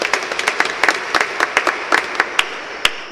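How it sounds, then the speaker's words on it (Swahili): A congregation at a Sunday Lenten Mass claps in welcome, a dense run of scattered hand claps lasting about three seconds with no voices over it. "Tumpongeze kwa makofi."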